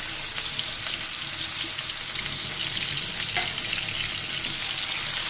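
Eggplant pieces frying in a pan produce a steady, close, hissing sizzle that holds evenly throughout without speech.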